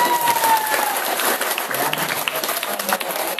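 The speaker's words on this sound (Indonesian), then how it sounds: "Tepuk tangan buat remaja-remaja." An audience at an Islamic religious lecture applauds the youth committee, a dense, continuous wash of clapping from a crowd, moderately loud and steady, with faint voices beneath.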